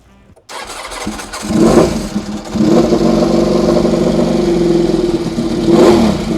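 A Ducati Desmosedici motorcycle engine, already warmed up, revs hard and close, rising in pitch twice with a steady aggressive roar between the bursts.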